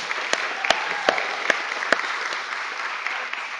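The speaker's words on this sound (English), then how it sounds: "Bill Haley, let's give him a round of applause for stepping into that." Audience applause at an NIA national show award presentation in Marlborough, Massachusetts, a steady wash of clapping from a crowd with a few sharp, louder claps standing out near the microphone, no voices over it.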